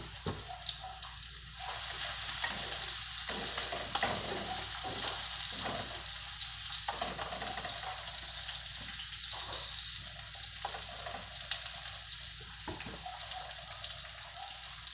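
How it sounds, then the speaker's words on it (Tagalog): Egg frying in a pan, a steady close sizzle and crackle running throughout with small pops and clinks. "Siguro ano na lang ako ng fried egg para tamang-tama sa pandesal namin"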